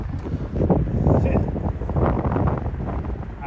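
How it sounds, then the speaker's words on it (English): Heavy wind on an open golf course buffets the microphone in loud, rumbling gusts throughout, with faint voices partly buried beneath the roar. "You can hear it in the microphone, but it's hard to explain how windy it really is."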